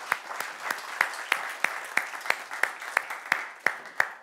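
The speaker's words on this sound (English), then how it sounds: "On applaudit Dr. Anna Shvets." An audience applauds a guest lecturer, Dr. Anna Shvets, after her talk on generative AI in art and virtual reality, with a steady, fairly rhythmic round of clapping at moderate volume that carries on through the whole moment.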